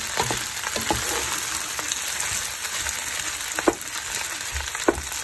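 Tuna pasta with mixed peppers fries in a pan with a continuous close sizzle, broken by occasional spoon scrapes and a couple of sharper knocks as it is mixed.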